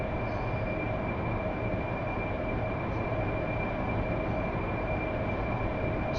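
Steady, loud roar of an AV-8B Harrier jet engine during takeoff in a flight simulator game, a constant broadband rush with a sustained high whine and no talking.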